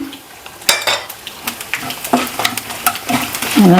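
Dried vadagam and cumin frying in hot oil make crackling sizzle bursts, with sharp clicks and scrapes of a spoon stirring in a pan, close and busy, with no voices.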